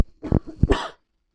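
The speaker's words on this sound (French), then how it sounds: "Pardon, je vais tousser." A short, close cough in two or three rough bursts, with a throaty catch, then silence for the last half second; no words are spoken.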